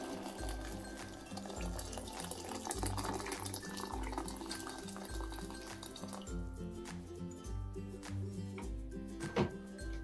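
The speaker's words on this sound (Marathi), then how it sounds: "पाणी घालणार आहे।" About a litre of water is poured into a cooking pot for broccoli almond soup, giving a continuous faint splashing fill with a few soft clinks.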